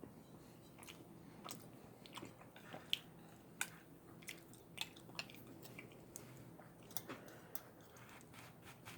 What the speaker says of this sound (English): You get more sounds if I chew with my mouth open